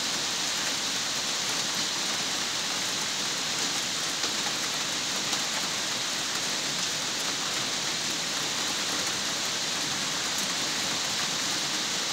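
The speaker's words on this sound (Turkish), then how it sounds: "Yağmurun sesini de çatından duyuyorsunuz. Tıkır tıkır, şırır şırır geliyor yani." Heavy rain pours onto the roof of a village house in a dense, steady, even patter that continues unbroken, with no voices.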